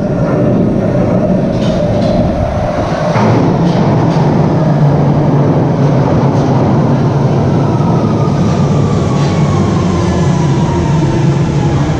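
A train rumbles loudly and steadily throughout, a dense roar of wheels on rails with faint rhythmic clacking and a long drifting tone.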